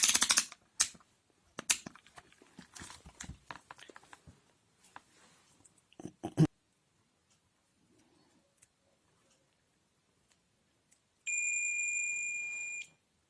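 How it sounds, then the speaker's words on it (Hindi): A multimeter continuity buzzer sounds while a push button is pressed, a single steady, shrill beep of about two seconds near the end, after a run of handling clicks and taps and a quiet pause. "जब तक मैं इसको प्रेस से रखूंगा तब तक मुझे बजर का साउंड मिलेगा"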